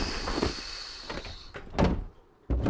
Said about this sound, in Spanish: He hecho una puerta de chapa en vez de un code